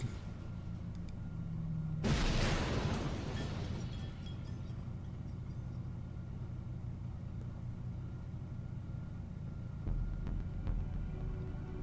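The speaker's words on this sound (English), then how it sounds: "There was a thunderous explosion and a gout of flame tore the roof off the minivan like it was made of aluminum foil." A sudden loud blast in a video game tears the roof off a minivan, a sharp burst of noise followed by a long rumbling roar that slowly fades under a low steady hum.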